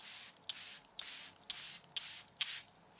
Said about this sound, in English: we basically spray this over